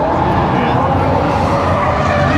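A car doing burnouts at the Hoonigan Burn Yard during SEMA 2021 at the Las Vegas Convention Center: a loud, continuous roar of spinning, squealing tires blended with engine noise and a busy crowd.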